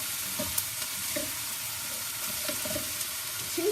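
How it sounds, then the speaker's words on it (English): Chunks of butternut squash sizzle steadily in a hot frying pan while a utensil scrapes and stirs them in a few brief strokes, with no talking. "So I have the butternut squash. I'm going to add to the pan. Stir that around."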